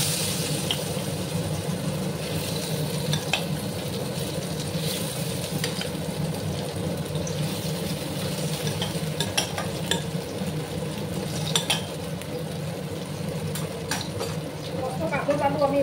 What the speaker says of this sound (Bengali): এবার আমি কাঁকরোলগুলো আর আলুটা দিয়ে ভেজে নেব।